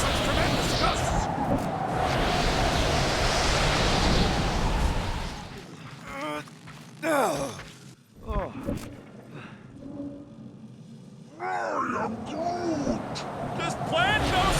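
Strong wind gusts in the video game Marvel's Guardians of the Galaxy roar as a loud, steady broadband rush for the first five seconds. The wind then drops back as voices talk over a lower rumble, and a fuller gust swells again near the end.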